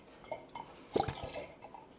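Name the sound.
liquid mead mixture being poured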